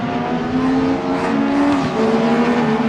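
Race cars in the RaceRoom racing game, 1990s DTM touring cars at Brno, roar past together after running wide, a steady loud engine drone with some tyre noise and no talk.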